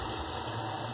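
A Chevy truck engine idles slowly with its mass airflow sensor disconnected, a steady, close, continuous low rumble with no voices over it.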